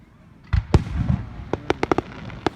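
Fourth of July fireworks bursting overhead: a few heavy booms, then a quick string of sharp crackling pops, loud and fairly close, with no talking.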